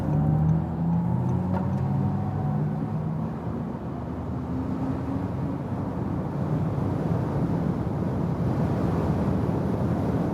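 Steady broadband road and wind roar from inside an Audi e-tron GT electric car accelerating toward 200 km/h, with a faint rising whine through the sustained, even noise and no talking.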